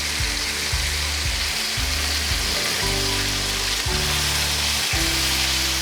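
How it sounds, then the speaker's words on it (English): A pork loin sizzles in a hot skillet of bacon grease, a loud, steady crackling fry close up that fills the whole stretch, with a few low thumps of handling underneath and no talk. "So I'll take this pork loin here. You can hear that sizzle"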